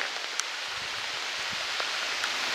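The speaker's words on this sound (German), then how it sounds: "Hört ihr das Prasseln von dem Regen?" Rain patters in a forest in the Saxon Switzerland sandstone mountains, a soft continuous hiss of drops with occasional louder individual taps, faint and even, with no voices.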